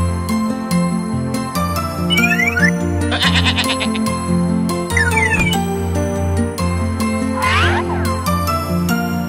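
A goat bleats in a children's animal-names cartoon, with a couple of quavering, wavering bleats rising over a steady, bright musical backing; no talking.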